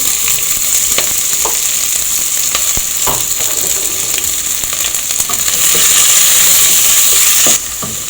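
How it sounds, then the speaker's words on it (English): Vegetables with spring onions frying in oil, a steady close sizzle running throughout with occasional stirring clicks and scrapes, growing a little louder near the end. "I want to fry my vegetables"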